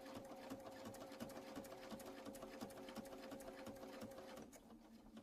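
Sewing machine stitching two quilt sashing strips together, a steady fast mechanical whir with rapid needle clicks, close and continuous before slowing slightly near the end, no talk.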